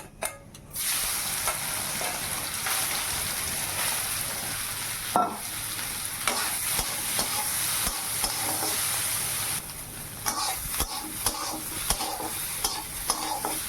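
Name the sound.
soybean chunks frying with salt and turmeric in pan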